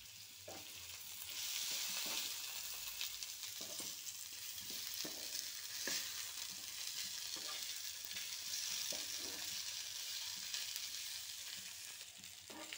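Boiled potatoes frying with turmeric and fried onion in a pan for ghugni, a continuous moderate sizzle with regular stirring scrapes and soft clicks throughout, no talking.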